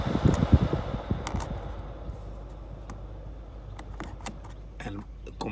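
A rear climate control fan in a Citroën C4 Grand Picasso runs at full speed as a steady whooshing airflow, heard under someone talking along with a few clicks and knocks from handling the controls.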